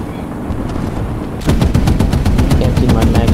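Rapid machine-gun fire in a video game, a fast string of sharp, loud shots breaking through walls, starting abruptly partway in after a quieter stretch of ambient game noise.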